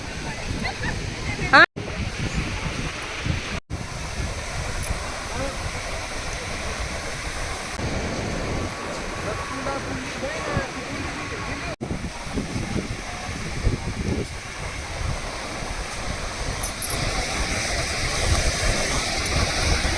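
Steady rushing surf at Juhu Beach, Mumbai fills the scene, a continuous broadband wash of waves with wind, while voices talk loosely nearby.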